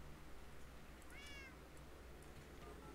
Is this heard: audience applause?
no